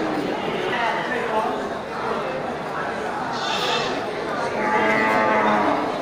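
Livestock bleating and calling at a crowded animal market in Bireuen where goats and female sheep are traded, several animal cries rising over steady crowd noise and people talking nearby.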